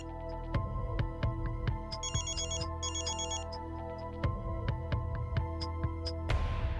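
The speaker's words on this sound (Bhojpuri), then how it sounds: "ई फोन बजत बा" A mobile phone ringtone plays a repeating electronic melody, loud and close, with a brighter chime burst in the middle and a rising swish near the end.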